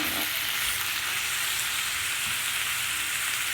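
Potatoes and small zucchini frying in a pan, a steady dense sizzle that holds evenly from start to finish with no talk.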